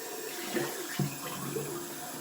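A cold tap runs quietly with a few soft splashes as the face is rinsed under the water after a wet shave.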